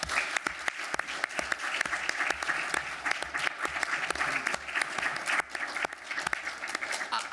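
A meeting audience of committee participants applauds steadily throughout, with sharp individual claps cutting through dense, even clapping at moderate volume in an official gathering setting.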